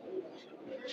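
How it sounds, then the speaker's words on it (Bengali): Male pigeons coo at the Saruliya pigeon market, a short, throaty murmur of low calls rising and falling, close by with a busy background hum. "নর কবুতর গররা ডাকাডাকি করতেছে"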